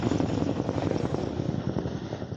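A water-dropping firefighting aircraft passes around at a distance, its engine drone steady and moderately faint with a slight pulsing flutter, heard alone.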